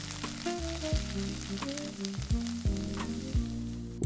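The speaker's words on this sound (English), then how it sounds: "We carefully spread the sauce across the entire skillet." Tomato sauce spread across a hot skillet, a loud close sizzle with repeated spoon scrapes and low thuds against the pan at irregular intervals, no voices heard.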